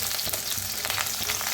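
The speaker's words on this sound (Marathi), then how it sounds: "तर भेंडी मस्त छान अशी भाजायला लागलेली आहे तेलात" Okra fries in oil in a kadhai, a loud, steady close sizzle with light stirring and no talking.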